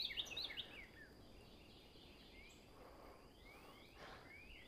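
Birds sing outdoors alongside other animal sounds, high chirps and short call phrases, most distinct at the start and again later, faint against a quiet ambient background.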